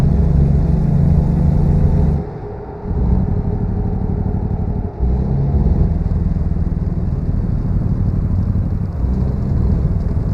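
A 2014 Volvo VNL truck engine in American Truck Simulator roars and revs loudly, with a rough low rumble that dips briefly a couple of times as the throttle lifts, then surges again.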